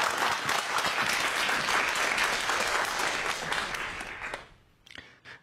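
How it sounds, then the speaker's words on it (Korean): Studio audience applause welcoming lecturers at a Korean science talk show taping, a dense, loud roar of clapping that holds steady and then trails off into a few scattered claps and faint voices at the end. "박수 부탁드릴게요."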